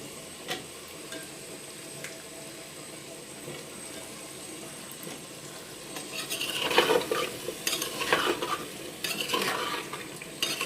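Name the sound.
potatoes frying and being stirred in a pan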